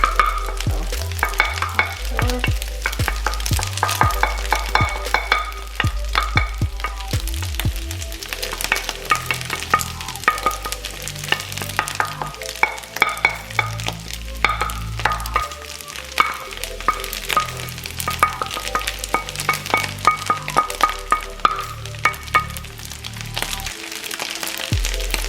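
Eggs sizzle steadily in a hot pan for shrimp fried rice while being stirred and chopped small, with frequent scraping and clicking of the spatula against the pan over an unbroken frying hiss.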